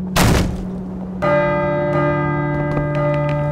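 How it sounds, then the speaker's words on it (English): A church bell tolls in the Call of Cthulhu: Dark Corners of the Earth game, its loud ringing tone sustained and humming after a heavy thud at the start. "I should let the bell finish ringing first."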